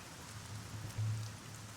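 Steady soft rain from the video game Arcania Gothic 4, a faint even hiss of drops on surfaces with a brief low rumble swelling near the middle, with no voices.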